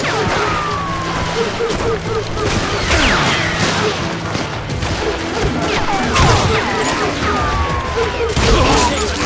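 Gunfire from a fight in the Western shooter game Call of Juarez: Gunslinger, with loud repeated shots and crashes packed among game music and effects that run the whole time.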